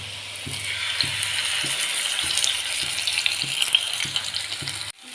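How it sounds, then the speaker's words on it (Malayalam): Fish shallow-frying in oil in a pan gives a steady, close sizzle with soft periodic knocks underneath, ending in a brief break near the close; no one speaks. "നമുക്ക് മീൻ ഇട ഫ്രൈ ചെയ്യാൻ വെക്കാം ചെറുങ്ങന ഡീപ്പ് ഫ്രൈ വേണ്ട ഒരു ഷാലോ ഫ്രൈ ചെയ്തെടുക്കാം"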